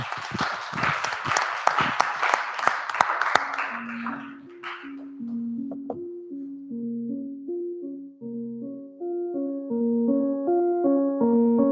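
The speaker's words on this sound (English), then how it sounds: "And of course, a big applause." Audience applause at a Caribbean Linked event, a dense burst of clapping for about four seconds that fades out before a sung melody with steady tones takes over.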